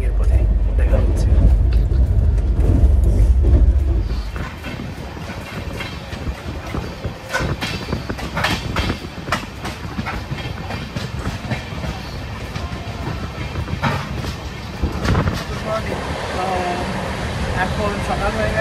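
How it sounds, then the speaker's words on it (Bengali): A train running on rails near Kishanganj, bound for Siliguri Junction, rumbles with a deep low roar at first, then gives way to a steady rattling clickety-clack of cars, heard from inside while a person talks. "আমাদের ট্রেন জাস্ট কিষানগঞ্জ ছাড়লো।"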